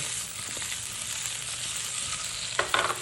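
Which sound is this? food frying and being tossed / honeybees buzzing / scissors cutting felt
food frying and being tossed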